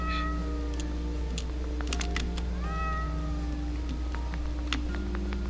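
Cats meow repeatedly in the video game OneShot, several short mewing calls spread across a steady background drone, with no speech.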